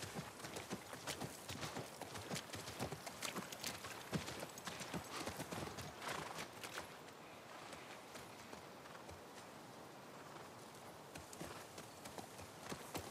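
Steady clip-clop of horse hooves trotting across ground in The Last of Us Part I, a continuous rhythmic clatter with busy background ambience throughout.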